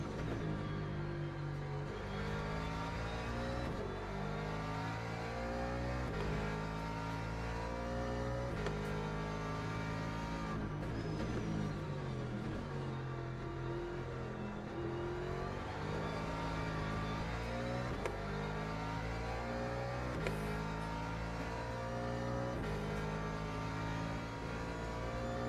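Race car engine in the Le Mans Ultimate sim at Daytona, droning loud and steady through gear changes, with layered engine harmonics rising and falling continuously and no talk.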